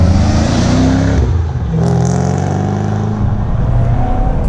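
A Ford GT500 engine accelerates on a wet road in the rain, a loud, close, steady roar that climbs in pitch with a slight dip partway through.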